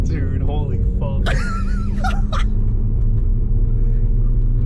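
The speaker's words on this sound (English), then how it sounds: "We're driving on the speed limit, but we're driving." A BMW 135i drives along the road at the speed limit, a steady low engine and road rumble heard from inside the cabin, with brief excited voices and exclamations over it early on.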